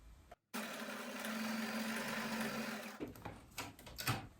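A sewing machine runs a long straight stitch down the middle of a ruffle fabric strip, a close, steady whirring hum for about two and a half seconds after a brief start, then stopping with a few light clicks.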